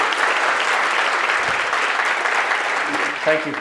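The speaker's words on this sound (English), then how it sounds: "A round of applause, please, for the remarkable prayer." An audience at a talk applauds after a prayer, a steady, dense wash of clapping from many hands that fills the whole stretch, with a brief voice surfacing near the end.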